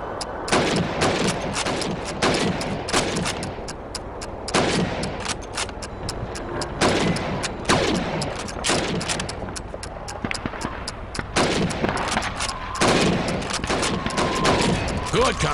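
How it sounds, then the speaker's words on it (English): Repeated single rifle shots crack loudly at a quick, uneven pace as helmets are fired at during Red Army training in Call of Duty 2, close and sharp, with short gaps between each shot. "You have 15 seconds to shoot the helmets."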